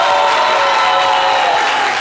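An audience at a live stage show claps in a dense, continuous burst of applause that fills the space evenly and stays loud throughout.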